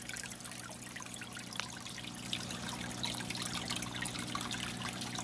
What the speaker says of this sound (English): we still get a good trickly, babbly, waterfall type effect going on all around